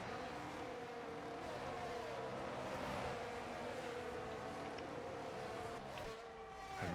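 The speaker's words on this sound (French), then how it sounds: "Permettre de baisser le son des voitures encore un petit peu" Formula 1 race cars in a video game at Abu Dhabi whine at high pitch through continuous engine noise, with revs rising and falling as cars pass, fairly quiet in the mix.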